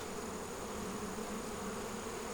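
Honey bees hum steadily over a brood frame of nurse bees during a beekeeping hive inspection, a close, continuous buzzing drone with no pauses.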